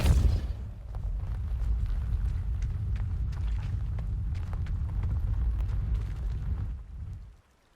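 Depulso spell cast in Hogwarts Legacy, a heavy rumbling blast that surges at once and holds as a dense, roaring push for several seconds before cutting off.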